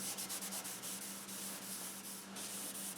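Surface rust being scrubbed off the tailstock of a wood lathe, a steady, close abrasive rubbing with a faint rhythmic back-and-forth pulse over a constant hum, no talking.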